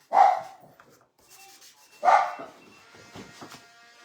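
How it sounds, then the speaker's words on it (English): Two sharp, loud barks from house dogs indoors, about two seconds apart, with quieter rubbing and sanding-like noise from woodworking on a cutting board in between. "my dogs are going to bark because my son is home"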